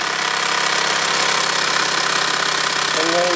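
A Mamod SP8 "James Watt" model stationary steam engine runs with a steady mechanical chugging hum, close and continuous, with a brighter whistling tone rising near the end.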